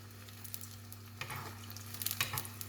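Bourek pastry frying in oil in a pan, a continuous close sizzle with a steady low hum beneath it, building to sharper crackles and spits near the end.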